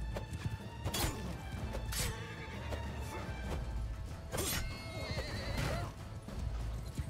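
Horse neighing and clip-clopping hooves from the Mount and Blade 2: Bannerlord video game, with several loud whinnies rising over a busy, noisy battle din and steady hoofbeats throughout.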